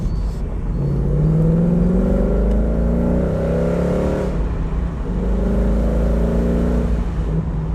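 A Ford Mustang driving with the top down, its engine a steady close rumble that swells slightly as it pulls, with road and wind noise throughout and no voices.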